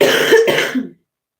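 A single hoarse cough runs into a short throat clearing, close and fairly loud, then silence.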